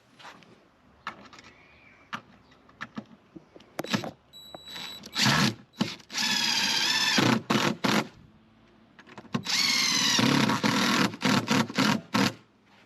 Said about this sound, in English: So I'll get screws in there now.